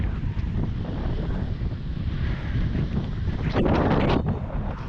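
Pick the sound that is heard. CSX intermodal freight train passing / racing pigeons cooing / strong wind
strong wind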